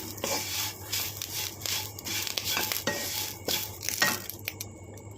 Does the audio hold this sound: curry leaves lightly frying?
yes